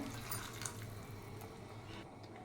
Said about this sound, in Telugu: ఆ వాటర్ తీసుకొని ఇలా పోసుకోవాలి